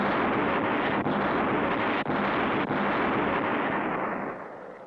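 Cannon fire from a pirate ship in a 1960 cartoon, a dense roaring blast that sustains loudly with a few sharp thumps inside it before slowly easing off.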